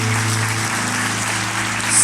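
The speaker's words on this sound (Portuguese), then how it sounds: "Aplauda Jesus." A church congregation claps together, producing a dense, steady wash of applause that fills the room evenly and swells slightly at the end, with a low hum beneath and no speech.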